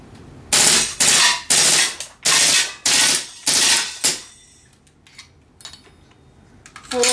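A GSG 92 rifle fires on full auto in six loud, closely spaced bursts of rapid shots, each lasting about half a second, followed by quieter clinks and handling noise.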